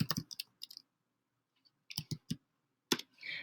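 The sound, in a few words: typing a word on a computer keyboard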